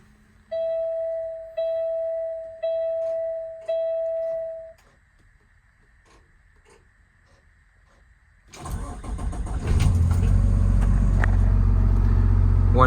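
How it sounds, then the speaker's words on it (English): Four short electronic chimes sound in the cab before a 2021 Kenworth T270 truck's engine cranks and catches, then settles into a loud, steady idle close by. "I'm gonna hop in the truck and take it for a spin"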